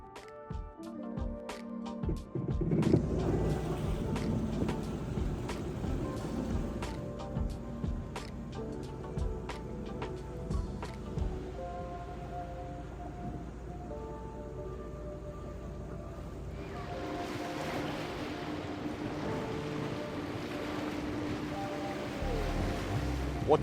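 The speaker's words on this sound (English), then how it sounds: "This is my jet ski. It's a Sea-Doo RXT 300" A Sea-Doo RXT 300 horsepower supercharged jet ski is ridden across the water off Florida. A steady engine drone blends with rushing wind, microphone buffeting and splashing waves for the whole stretch, and no one speaks.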